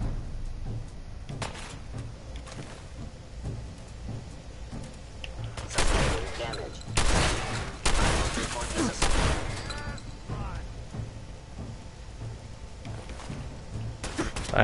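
Shotgun blasts in the Fallout 4 video game, a few loud booming shots clustered in the middle of the stretch over a steady game ambience, with gunfire echoing between bursts.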